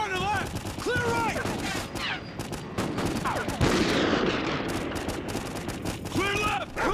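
Rapid bursts of gunfire crackle through a breach in the Call of Duty Ghosts video game, loud and dense, with shouted voices heard over the shooting.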